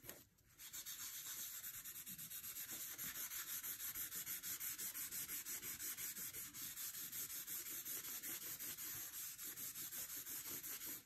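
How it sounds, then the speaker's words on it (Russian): Steady, soft rubbing of a paper napkin across paper, blending a pencil drawing of palm trees, ocean and a sailboat; continuous close scratchy strokes with a regular back-and-forth rhythm, no voices. "Берем салфеточку и растушевываем."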